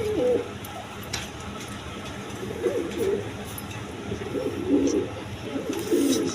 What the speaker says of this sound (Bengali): দর্শকবৃন্দ এখানে আরেক পেয়ার কবুতর আছে